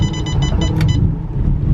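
A cold turbocharged BMW E34 engine that has sat for a couple of days idles with a loud, steady, rough low rumble after starting, with a short series of electronic chime beeps near the start.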